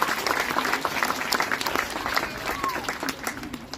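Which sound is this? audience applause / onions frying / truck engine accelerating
audience applause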